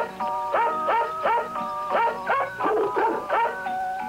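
Several dogs bark in repeated bursts at a 1980s car dealership, sharp yelping barks coming roughly twice a second over a steady background, close and fairly loud.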